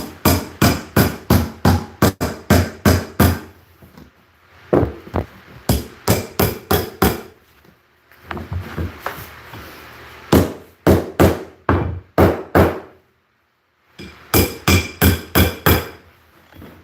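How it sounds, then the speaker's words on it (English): Sharp hammer blows striking a wooden plank, loud and close, in quick bursts of repeated strikes separated by brief pauses. "you can't get a hammer to hit that plank right there."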